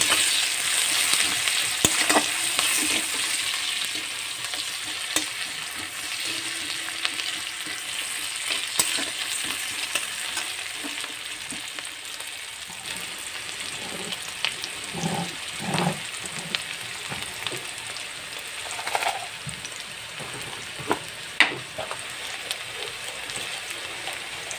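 Panch phoron spices sizzling in hot oil in a pan with a rohu fish head, garlic already added; a continuous close frying crackle with occasional stirring clatter and pops.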